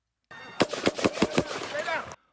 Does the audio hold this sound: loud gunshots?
yes